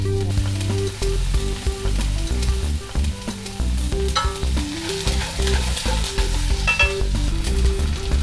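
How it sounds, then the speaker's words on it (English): Pork tenderloin sears in a hot pan with a constant loud sizzle, while occasional faint scraping sounds come from the meat being turned. "We're just getting it seared because we're not actually doing all the cooking here."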